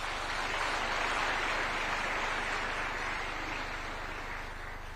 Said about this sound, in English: One more round of applause for the chair